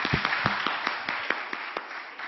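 A church congregation applauds, a steady patter of many hands clapping together with a few louder individual claps standing out, sustained and fairly close throughout.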